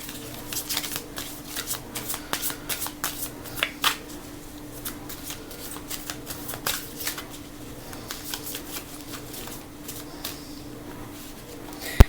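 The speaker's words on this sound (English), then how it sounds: "Let's pull a card from the Spirit Animal Oracle deck." A deck of Spirit Animal Oracle cards is shuffled by hand up close, giving quick repeated riffling flutters and soft taps against a faint steady hum.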